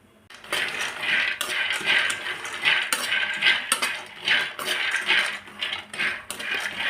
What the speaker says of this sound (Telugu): కళాయిలో కొన్ని ఒక కప్పు పల్లీలు వేసుకోవాలి ఇవి దోరగా వేయించుకోవాలి